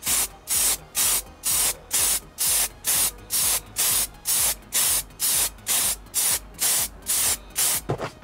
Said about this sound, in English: I've just finished spraying this